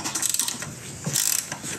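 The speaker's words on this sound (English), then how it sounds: "Parker, give me a 14 millimeter wrench if he doesn't have them down there" A 14 millimeter ratchet wrench clicking on bolts during an engine swap on a 1972 Toyota Celica, with close, quick bursts of metallic ratcheting separated by short pauses.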